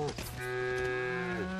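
A cow in LEGO Fortnite gives a single drawn-out, close moo that rises and then falls away, heard alone.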